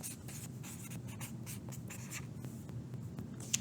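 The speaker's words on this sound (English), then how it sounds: "So I'm going to write that." Handwriting on a surface while fractions on a number line are explained: quick scratchy strokes in short bursts, close and clear, with brief pauses between marks.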